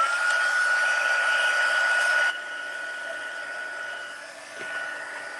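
A heat tool blows hot air steadily to set embossing powder on a handmade card, a loud close whirring hiss with a thin whine that drops to a softer level partway through.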